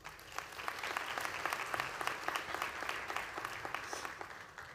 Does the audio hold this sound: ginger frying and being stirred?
no